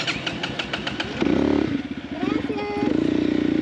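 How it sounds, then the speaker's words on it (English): A motorcycle engine catches after a push start on a road in the Dominican Republic, firing up about a second in and settling into a steady, close, chugging idle, with voices and background noise at the start. "when the engine finally combusted after a helpful push"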